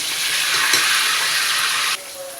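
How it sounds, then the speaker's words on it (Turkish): Steady, loud oil sizzle of eggplant frying fills the clip, then drops abruptly to a quieter simmer near the end. "Son patlıcanlarımı da atıyorum kızartmaya."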